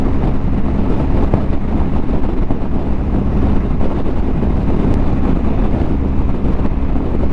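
Riding a 2022 BMW R1250GS motorcycle in sixth gear at 70 mph and about 4,000 rpm into a headwind, a loud continuous roar of wind buffeting and low engine rumble, steady throughout.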